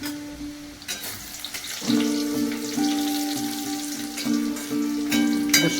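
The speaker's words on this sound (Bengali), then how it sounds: "এটা বাটনা ভাজা হবে।" Spice paste frying in a pan with panch phoron and onion, a steady close sizzle that swells at about two seconds, with sustained tonal hums running underneath.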